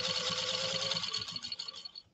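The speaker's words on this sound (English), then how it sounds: "So we just laid down a near satin stitch through about 4 to 5 ounces of genuine elk hide." A 1949 Canadian Singer 15-91 sewing machine laying a near satin stitch through 4 to 5 ounce genuine elk hide, a steady fast whirring hum with rapid needle clatter that runs close and then stops.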